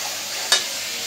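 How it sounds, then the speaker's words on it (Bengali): Spice paste being sautéed in a pan for a village-style curry: a steady, fairly loud sizzle with one brief sharper scrape or stir partway through, no voices. "এখন মশলাটা ভালোভাবে কষায় তারপর তরকারি দিয়ে দেব।"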